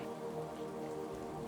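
Steady rain patters on a path lined with wildflowers and puddles, a soft continuous hiss heard alone and fairly faint.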